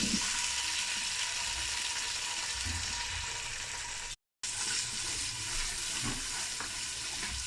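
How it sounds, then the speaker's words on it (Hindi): Onions frying in spiced masala for chicken pulao, a steady close-up sizzle with light stirring scrapes and no talking. "तो हम जो है इसको फ्राई करते हैं प्याज को।"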